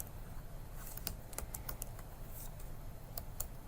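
Keys tap on a computer keyboard as a shell command is entered, a quiet run of quick, irregular clicks ending in a couple of firmer strokes.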